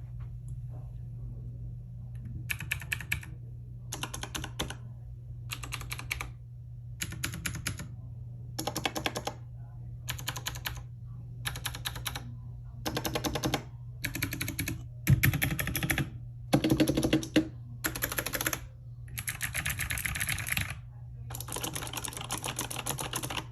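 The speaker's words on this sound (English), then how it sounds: "we will be comparing the Cherry MX Blues, the OGs, versus the Kale Blues versus the Razer Clicky Purples" Bursts of fast typing on clicky mechanical keyboard switches, Cherry MX Blue, Kailh Blue and Razer Purple, on a Razer Huntsman Mini 60% board. Crisp, close, rapid clicks come in separate runs with short pauses between them, over a low steady hum.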